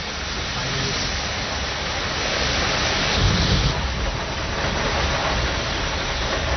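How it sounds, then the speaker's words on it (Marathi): Heavy monsoon rain with strong gusting wind during a storm in Mumbai, a steady loud broadband roar throughout with a slight surge in the middle. "जोरदार पाऊस आणि त्याच्यातच सोसाट्याचा वारा"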